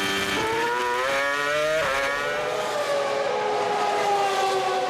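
A 2006 Formula One car pulls away from its pit stop at the Spanish Grand Prix, its engine note climbing loud and close in rising harmonic sweeps through repeated upshifts, with no talking.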